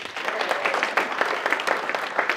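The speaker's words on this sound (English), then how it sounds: "Clap if you're into Batman." Audience applause at a comedy show, a steady burst of many hands clapping together for a couple of seconds, fairly close and full, with no talk over it.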